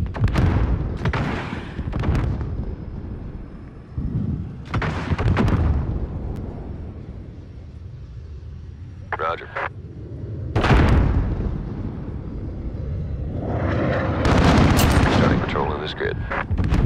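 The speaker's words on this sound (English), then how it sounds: "We're taking some fire." Gunfire and explosions hit a squad in a military video game firefight: loud, repeated bursts of shooting and heavy booming blasts, with voices in the mix.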